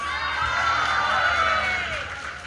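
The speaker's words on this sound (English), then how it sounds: "let's cheer on for our pros" A crowd cheers and whoops for pro eaters at a Dagwood dog eating contest, a loud sustained roar of mixed voices with children shouting that swells and then eases slightly toward the end.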